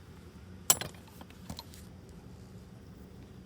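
A metal wrench being picked up and handled during steering tie rod removal on a Kia or Hyundai: one sharp metallic clink followed by a few lighter clanks, close and brief, then quiet workshop background.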